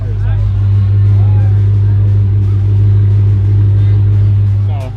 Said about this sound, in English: You guys hear how loud my car is?